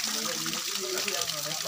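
A mountain stream in Uttarakhand rushes steadily nearby with a continuous broadband gush of flowing water and no pauses.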